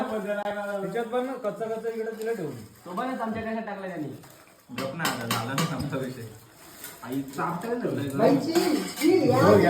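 A spoon clinks and scrapes against a pot of vegetable curry in a few close metallic clatters, heard under and between lively conversation.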